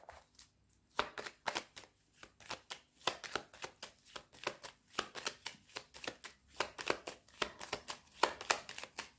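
Deck of cards being riffled and cut over and over, producing a steady run of crisp, close flutter bursts in a quiet room with no talk.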